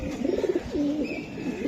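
A female racing pigeon gives soft, close coos in a short rolling sequence with a brief rising tone, over faint background noise.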